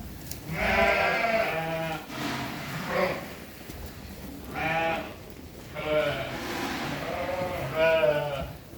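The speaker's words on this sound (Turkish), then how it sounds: "Yemin sesini duyduğu gibi bağırıyorlar." Several sheep bleat loudly and repeatedly at close range at feeding time, overlapping calls coming in bursts with brief pauses between them.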